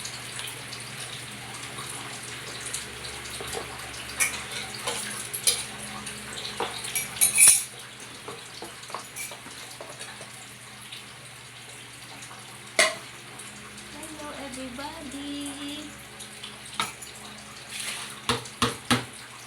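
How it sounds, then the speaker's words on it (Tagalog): Dishes are washed under a running tap: a steady stream of water flows throughout while plates, cutlery and pans clink and clatter irregularly, with a few sharper knocks close by. "manghugas pinggan para makita nyo po guys, nagapanghugas"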